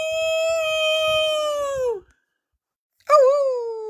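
A person's voice imitates a wolf howl: a long, clear, sustained tone that falls away, a second of silence, then a shorter rising howl.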